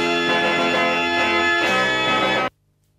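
A Continental fair organ plays a slow piece, full sustained chords of reedy pipes ringing loudly for a couple of seconds before cutting off abruptly into near silence.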